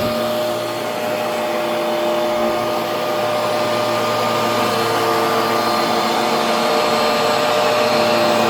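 A suction machine running steadily as it tries to draw up moisture, a loud continuous whirring drone with a constant motor whine that holds throughout without any speech.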